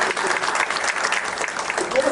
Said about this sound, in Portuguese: Pessoal, eu acho que merece uma salva de palmas para esse trabalho.